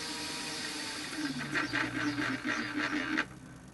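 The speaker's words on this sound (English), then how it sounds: "Head makes funny noises when you're going super slow." A mini lathe running at very slow speed, its motor humming as an uneven rattling chatter from the headstock rises for a couple of seconds and then cuts off.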